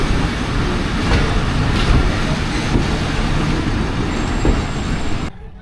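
The Khyber Mail 1UP train pulls into Attock City Junction with a loud, continuous rumble and rolling rattle heard from on board, steady throughout before cutting off abruptly at the end.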